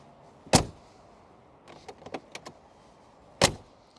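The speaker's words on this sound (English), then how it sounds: "you have to listen to the door" Door of a Brabus 700 G-Class, a 700 hp G-Wagon built on the G63 AMG, shutting. Two sharp, solid thuds about three seconds apart, close by, with faint clicks and latch noises between them and no talking.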